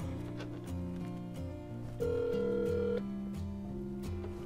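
A telephone rings out on a call, a steady electronic tone that sounds for about a second over quiet background music, with no voices.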